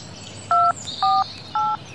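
A telephone is dialed: three evenly spaced keypad tones beep clearly over a soft background hiss, each lasting about a fifth of a second.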